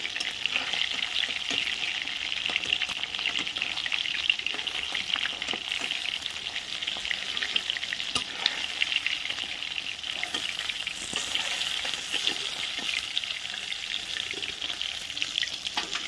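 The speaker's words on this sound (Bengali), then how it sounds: "মাছগুলো দেখো ভাজা হয়ে গেছে" Constant, dense sizzling and crackling of rohu fish frying in oil over a wood-fired stove, close and unbroken throughout, with a few faint clicks.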